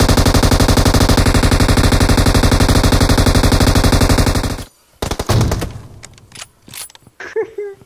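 Long sustained bursts of machine-gun fire from the PUBG Mobile battle game rattle loud and close for several seconds, then cut off into scattered shots, clicks and a few voices.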